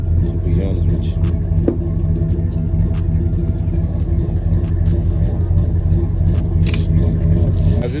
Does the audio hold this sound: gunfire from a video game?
no